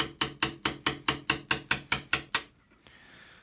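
A sharp chisel is tapped into the wooden stock of a Gewehr 1898 rifle, giving about ten close, evenly spaced sharp knocks that then stop, leaving near silence.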